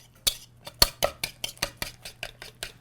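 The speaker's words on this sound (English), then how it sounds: "What we're doing is called creaming the butter." Butter is creamed in a bowl for lazy man cookies, a utensil striking and scraping the bowl in a steady series of sharp, close clinks about four times a second.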